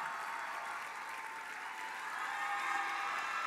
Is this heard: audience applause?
yes